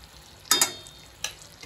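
Chicken pieces hitting hot oil in a pan while making butter chicken, giving two loud sizzling bursts close together and then a third shorter burst, with quieter frying between them.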